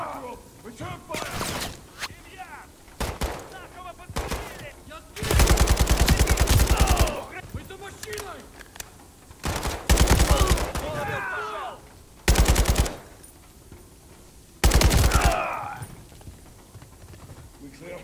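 Bursts of automatic gunfire from the Call of Duty Modern Warfare III video game, several loud sustained volleys separated by shorter pauses, mixed with game voices and battle effects.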